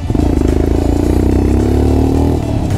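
A motorcycle climbs a snowy high-altitude road in Arunachal Pradesh on a solo ride, its engine labouring in gear with a loud, steady thumping drone and mechanical clatter, very close and continuous.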